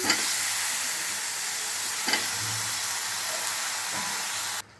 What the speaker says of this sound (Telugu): ఇప్పుడు మనం ఇందులోకి వంకాయలు యాడ్ చేసుకోవాలి